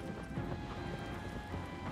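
Horse hooves galloping in the video game Shadow of the Colossus, a steady, rapid clip-clop under continuous game ambience for about two seconds.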